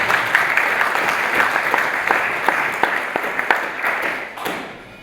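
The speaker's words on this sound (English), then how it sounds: "a round of applause for Leila." A round of applause for Leila from a seated audience at a wildlife talk, with individual claps audible in a lively patter that thins and fades toward the end.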